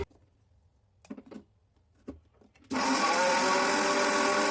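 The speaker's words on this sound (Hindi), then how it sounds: "इन सबको अब हम ब्लेंड कर लेंगे अच्छे से" Fresh cream and sugar go into a blender, with a few soft knocks and taps before the motor starts and runs in a loud, steady whir to the end.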